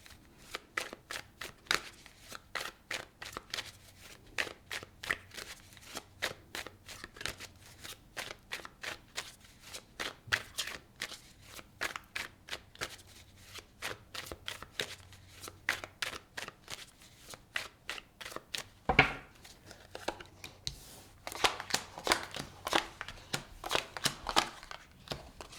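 Tarot cards shuffled and pulled, a near, rhythmic run of crisp card slaps and riffles repeating for the whole stretch, with a brief louder bump partway through and no talk.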